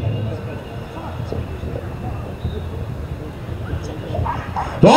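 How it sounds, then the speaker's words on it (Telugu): A police crime-detection dog yips and barks during an Independence Day demonstration at the Kadapa police ground. The short barks sit amid crowd murmur and a person talking. "క్రైమ్ డాగ్ అని కూడా దీన్ని అంటారు."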